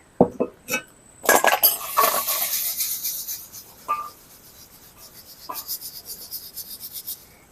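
Rice grains pour and rattle into a pan of hot salt to puff, a busy crackling sizzle with clinks of metal against metal, starting and stopping in short bursts.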